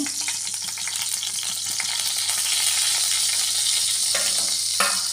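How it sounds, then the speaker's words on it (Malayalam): Hot oil heating in an iron pan sizzles and crackles steadily, a loud continuous hiss with a few brief spits and clicks near the end. "എണ്ണ ചൂടാവുകയാണ്"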